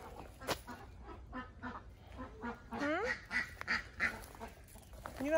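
A young chicken wandering in a garden gives a series of short, rising calls close by, while a person talks quietly at moments.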